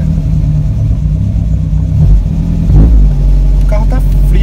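A cold Volkswagen Gol G2 engine idles with a low, steady rumble up close, rising briefly in a couple of light revs, while a person talks over it.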